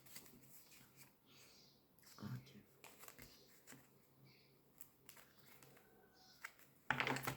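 Tarot cards are shuffled by hand in soft, papery riffles and taps, faint and close in a quiet room, ending in a louder flurry of shuffling.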